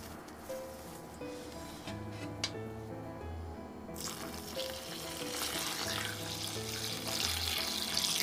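Water poured over malted barley sealed in a cloth bag, a steady splashing and trickling stream that grows fuller and louder toward the end, with no voices.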